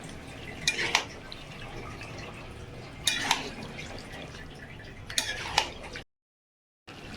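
Chicken is stir-fried in a pot for butter chicken biryani: a low, steady sizzle runs beneath three distinct bursts of metal utensil scraping and clanking against the pot, and the sound cuts out abruptly near the end.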